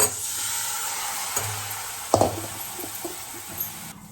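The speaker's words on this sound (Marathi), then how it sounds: "आता सोडणार आपण शेंगा" Drumsticks tipped into a pan of hot oil with turmeric and spices, a continuous close sizzle with a few soft clunks and stirring scrapes as the pieces land, no talking.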